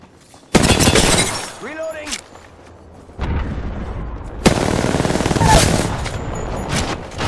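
Heavy bursts of gunfire and shattering impacts in an Apex Legends match, loud and close, in several dense volleys separated by short gaps, with voices under the action.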